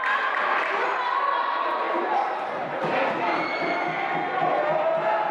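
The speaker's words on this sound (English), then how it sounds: "Did you hear this crowd coming alive?" A crowd at a women's college basketball conference semifinal, Notre Dame of Maryland against the KC Giants, swells in a dense, steady roar that fills the gym, with a commentator talking over it throughout.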